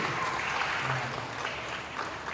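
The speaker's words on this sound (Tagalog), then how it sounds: "Isang palakpak pa para kay Atty. Marvin." Applause from a church congregation after a talk by an attorney, a steady wash of clapping with some voices mixed in, moderately loud and filling the whole stretch.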